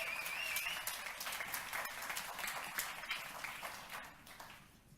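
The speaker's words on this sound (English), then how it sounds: "You can clap, absolutely." A large audience applauds at the launch of the Lumia 830 smartphone, dense clapping that starts strong and gradually fades toward the end.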